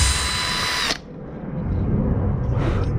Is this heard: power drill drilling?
yes